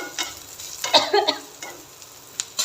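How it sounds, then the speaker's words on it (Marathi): A spoon stirs a chili powder and spice mixture with fried corn in hot oil, giving a soft sizzle and a few brief scraping clinks, close and without talk. "आता हे व्यवस्थित मिक्स करायचं"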